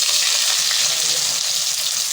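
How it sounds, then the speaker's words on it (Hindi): Onions sizzle loudly in a cup of hot ghee for biryani, a dense, bright hiss of frying that stays steady and close throughout, with no talking. "जी 1 कप घी जो गरम कर लिया हमने, उसमें अब हम डालेंगे प्याज।"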